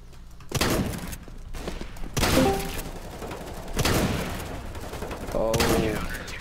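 Shotgun blasts in the game CSGO, four heavy booming shots spaced about a second and a half apart, each with a long rumbling tail and mechanical clacks between.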